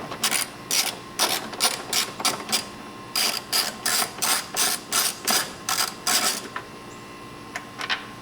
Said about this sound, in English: you're going to remove, like I said again, the two 8mm bolts